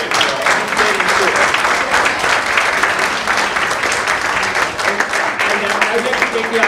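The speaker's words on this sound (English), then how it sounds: "I think all the students deserve a big round of applause." Loud, sustained applause from an audience honoring students at an entrepreneurs association event, with voices mixed into the steady clapping throughout.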